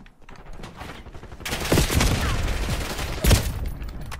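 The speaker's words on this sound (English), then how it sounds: "Somebody shooting at me." Gunfire in the video game Black Ops 6 erupts after a quieter start, becoming a loud, sustained volley with a sharp, heavier blast near the end, while a voice talks at times.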